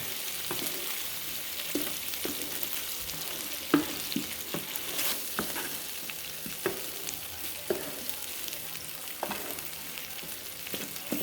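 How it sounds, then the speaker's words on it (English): Coconut milk and browned coconut cooking down in a pan with a soft, continuous sizzle, broken by repeated stirring scrapes and clicks at an uneven rhythm, close and fairly quiet. "the coconut browned and it's cooking down, the coconut milk"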